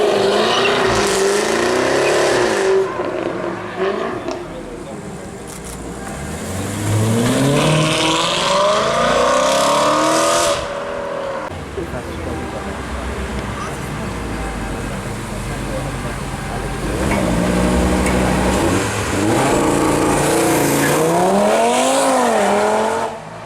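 Two Nissan GT-Rs launching with launch control at a Cars & Coffee meet in Luxembourg, engines revving hard and rising through gears in loud sweeping passes, with crowd chatter and talking underneath.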